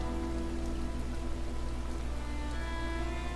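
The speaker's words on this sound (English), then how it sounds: "The rain was falling endlessly on the town." Steady rain falls on a town, a dense, even hiss of drops striking surfaces that continues unbroken throughout.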